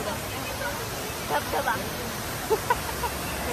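A broad, steady roar of a waterfall in Kerala fills the scene, loud and constant, with faint murmuring voices of people nearby mixed underneath.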